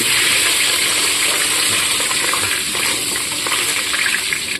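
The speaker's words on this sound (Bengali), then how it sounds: "প্রথমে এই আলুগুলোকে আমি ভেজে দিচ্ছি।" Potatoes fry in hot oil, making a loud, dense, continuous sizzle that stays steady throughout with no talk.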